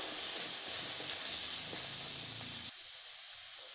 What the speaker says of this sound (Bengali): আমি এর মধ্যে কুমড়োটাকে অ্যাড করব